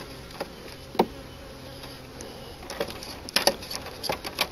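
Bees near a honey tree give a faint, steady buzz with a few louder passes and brief knocks close by, and no talk.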